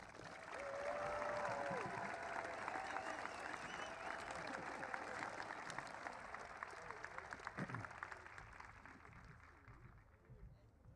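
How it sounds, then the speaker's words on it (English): An audience at Greenville High School's Jacket Pride Day applauds a group of athletes, the clapping faint and distant as a sustained wash that thins toward the end, with a voice briefly audible early on. "please give these athletes a big round of applause."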